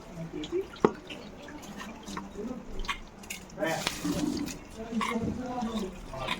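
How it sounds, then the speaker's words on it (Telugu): Soaked rice is tipped into boiling water for bagara rice, giving wet splashes, squishy pours and a sharp knock against the pot, close by under steady bubbling while someone talks over it. "రైస్ తీసి ఇందులో యాడ్ చేయాలి"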